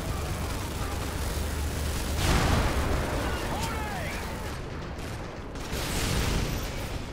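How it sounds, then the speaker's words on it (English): Rockets fire and explode during a tank battle in the video game Modern Warfare 3. The blasts form a continuous loud rumble of combat that swells twice with heavier explosions. "they're shooting rockets at me"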